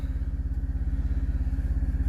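A truck's auxiliary power unit engine idles close by with a fast, even, low chugging pulse that holds steady and alone.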